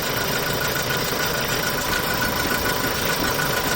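A used refrigerated box truck's engine idles steadily nearby, a constant rumbling drone with no voices over it.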